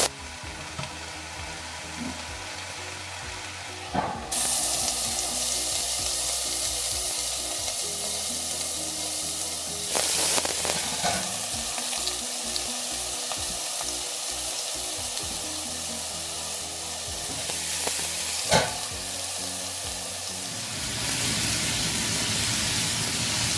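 Garlic and rovellons mushrooms hit a very hot pan, each addition bursting into loud, crackling sizzle that settles into a steady hiss, with occasional stirring knocks and no speech over it.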